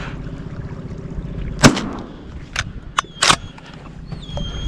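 Sharp, isolated gunshots ring out at close range, a few loud cracks spaced irregularly over a low steady background, with no talking.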